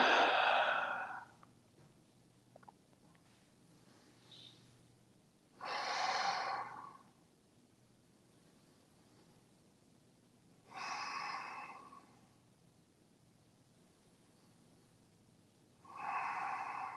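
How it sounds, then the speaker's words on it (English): Deep, slow breaths during a low-back care yoga session, three or four long airy inhale-exhale bursts spaced several seconds apart in a quiet room, close and soft with no talking. "Breathe deeply here."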